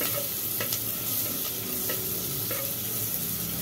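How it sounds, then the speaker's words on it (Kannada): Spices are stirred and fried in hot oil with asafoetida for beans sambar, giving a steady close sizzle broken by a few soft scraping stirs, with no talking. "ಈಗ ಚೆನ್ನಾಗಿ ಇದನ್ನು ಫ್ರೈ ಮಾಡ್ಕೋಬೇಕು."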